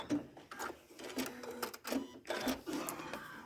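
A sewing machine stitches through a quilt block in short, uneven bursts of whirring, stopping and starting several times at close range.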